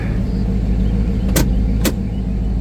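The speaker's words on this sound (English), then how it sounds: "Test our little emergency brake right there." The emergency brake of a 1971 Ford Mustang Mach 1 429 Super Cobra Jet is pulled inside the car, giving two short sharp ratcheting clicks over a steady low engine idle rumble, with no talk.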